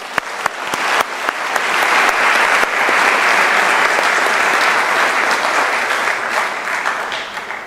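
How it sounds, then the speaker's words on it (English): A crowd at a university graduation ceremony applauds steadily, with loud, sustained clapping from many hands filling the room throughout. "may I request that we give Dr. Tolo a firmer round of applause."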